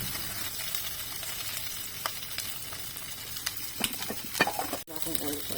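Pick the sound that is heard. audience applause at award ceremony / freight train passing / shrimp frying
shrimp frying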